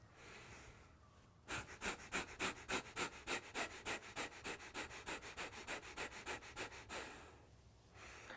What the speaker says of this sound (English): I was breathing heavily through the nose with force, enthusiasm, and conviction